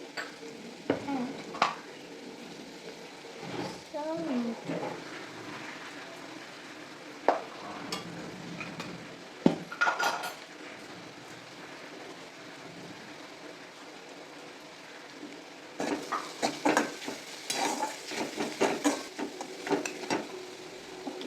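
A spoon stirs red chili into sandwich filling in a pan, giving soft scraping and clinks over a low sizzle, with scattered louder taps against the pan and a busier burst of stirring near the end.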